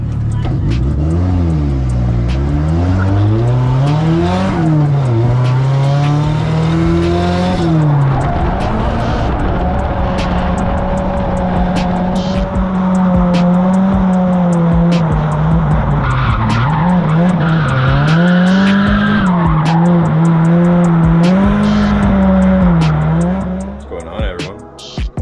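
Drift cars at a Club Loose drift event in Midvale, Ohio squeal their tires in long continuous wails rising and falling in pitch, loud and close over roaring engines, fading out at the end.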